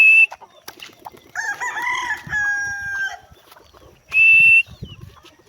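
A backyard chicken lets out loud, bright crowing calls at the start and near the end, with softer clucks and scratchy rustling in between.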